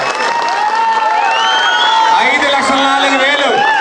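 A crowd at a temple festival in Rajahmundry claps while voices cheer and whoop, the clapping loud and continuous but largely masked by the shouting.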